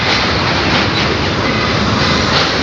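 A train creeping slowly across Bally Bridge (Vivekananda Setu) in Kolkata, a continuous loud rumble with steady rolling wheel noise and no distinct clicks.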